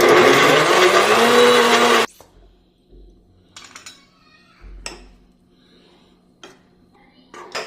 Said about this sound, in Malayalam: ഇനി നമുക്ക് ബ്ലെൻഡ് ചെയ്യാം